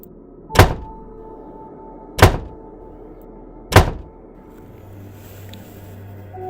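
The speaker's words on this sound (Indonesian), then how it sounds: "Berkali-kali pintu kamar mandi terbanting keras." A bathroom door slams hard three times at an even pace, each a loud, heavy wooden thud with a short decay, close by with quiet between the hits.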